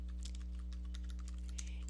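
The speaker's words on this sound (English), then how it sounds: "I'm just typing the text at the top of page 39" Text is typed on a computer keyboard in a quiet room, a rapid, faint run of key clicks over a low steady hum.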